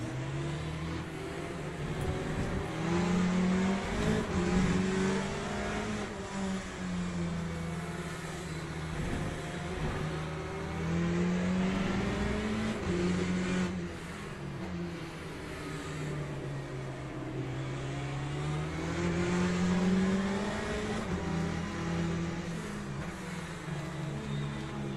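Race car engine in Le Mans Ultimate, a continuous loud drone that rises and falls in pitch through repeated upshifts and downshifts as the car laps, with no pauses.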